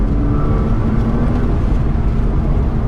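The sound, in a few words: 2005 Porsche 987 Boxster S Tiptronic full-throttle kickdown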